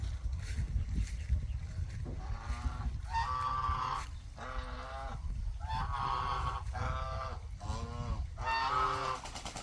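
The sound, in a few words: geese honking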